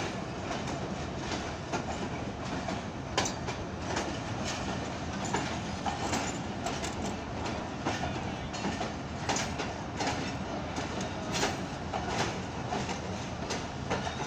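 Pakistan Express passenger train from Faisalabad arriving at Karachi Cantt railway station, a steady loud rumble of rolling coaches with rhythmic wheel clatter over rail joints and occasional clicks throughout.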